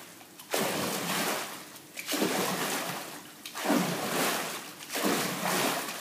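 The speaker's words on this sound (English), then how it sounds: "You're going to make a noise actually by pulling the water up." Water drumming done by pulling cupped hands up through the water, producing four surging, splashy whooshes at roughly regular intervals, close and moderately loud, with brief quieter gaps between strokes.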